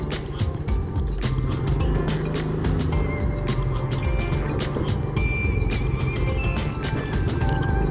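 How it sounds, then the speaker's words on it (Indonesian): A car edges along a narrow village road in Klari, Karawang, its engine rumbling steadily close by amid a dense background of clatter, ticking and faint tonal chirps. "Ada mobil, nggak bisa lewat ya"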